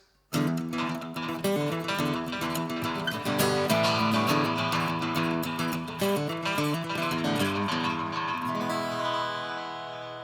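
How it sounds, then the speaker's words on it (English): A strummed carbon fiber guitar rings out with built-in echo delay repeats trailing each chord, the delayed notes smearing together and fading at the end. "The next effect that we're going to look at is the echo, or the delay."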